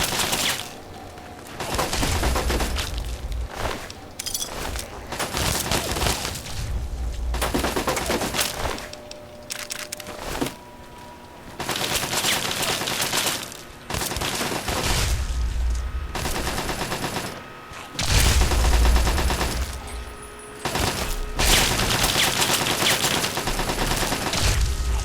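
Automated turret in Fallout 3 firing on ghouls, long loud bursts of rapid gunfire separated by brief pauses, dense and continuous through most of the stretch.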